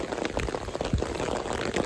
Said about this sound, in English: So it's totally pouring.